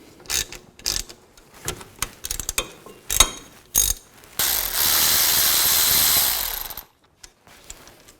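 A ratchet with a 12mm socket works the rear brake caliper bolts loose on a 2000-06 Chevy Tahoe: close bursts of quick clicking, then a longer steady rushing hiss before a few final clicks.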